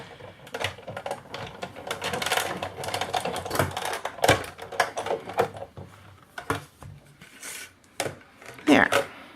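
A Big Shot die-cut machine presses paper through an embossing folder for an Easter basket treat holder, giving a series of irregular clicking, cranking mechanical rattles up close, with a voice speaking intermittently.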